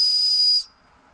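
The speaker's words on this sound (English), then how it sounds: "And I have a ferro rod. And the back of it has a whistle." The whistle on the back of a ferro rod gives a single sharp, high, breathy blast lasting about half a second, close and loud, then cuts off into quiet.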